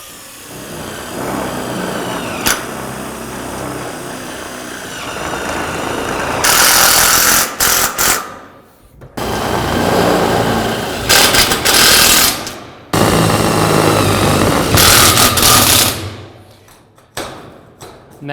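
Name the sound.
power drill driving screws into shed wall sheeting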